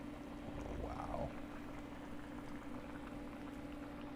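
A pot of clams bubbles on the stove in a low, steady simmer with a soft continuous gurgle, quiet and close, with no one talking.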